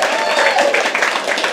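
Crowd applause at a live poetry open mic, a steady wash of clapping from the audience that stays loud and even throughout the short stretch, with no clear break.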